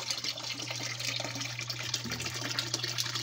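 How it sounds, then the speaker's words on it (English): Water draining through a simple bell siphon from a grow bed down into a tank, a continuous close gurgling and rushing flow with a low steady hum underneath. "Now it's sucking all the water."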